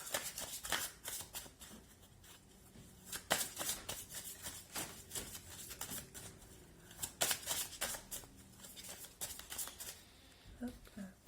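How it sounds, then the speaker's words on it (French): Oracle cards are shuffled by hand in a sequence of quick papery riffles and flutters, with a short pause in between, close and fairly quiet, while a voice talks at intervals. "Trop de cartes."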